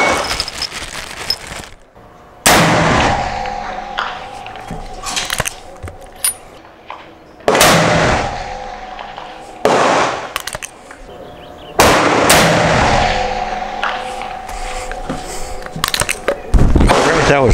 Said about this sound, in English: 3 more shots.